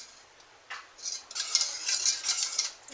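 A utensil scrapes and swirls through gluten-free white sauce as it thickens in a pan, giving soft, steady metallic scraping close by, slightly louder in the second half, with no voices.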